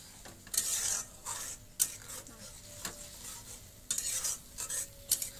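Chicken bora curry being stirred and fried in a pan, with bursts of scraping spoon strokes over a soft steady sizzle, recurring every second or so at close range with no talk.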